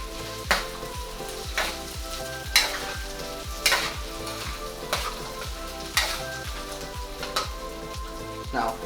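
Crispy pork fries in a generous amount of oil, with a constant crackling sizzle up close and regular stirring strokes every second or so, each marked by a brief louder scrape.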